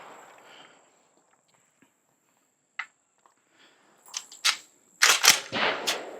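A 7.62 rifle test-fired with a new dustcover and handguard fitted, giving several sharp, loud shots clustered near the end after a quiet stretch with a few faint clicks.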